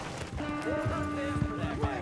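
Horse hooves clip-clop at a walk in Red Dead Redemption 2, a few soft, evenly spaced thuds under a sustained musical drone and ambient game background.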